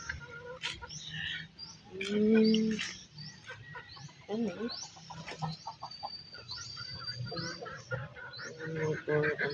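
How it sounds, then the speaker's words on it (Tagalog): Chickens cluck and chatter nearby in a busy outdoor scene at a Hello Kitty-themed place, with a person talking intermittently over the birds. "Ayan, may manok."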